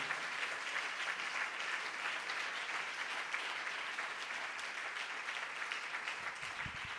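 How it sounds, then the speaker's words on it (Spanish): Church congregation applauding during a morning service, a sustained, even wash of clapping from many hands heard at moderate distance, with no voices. "Denle un aplauso al Señor en esta mañana."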